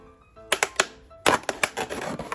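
A thick, labelled plastic PET bottle being cut: a few sharp, crackling snips, then a denser cluster of crunchy cuts, close and loud.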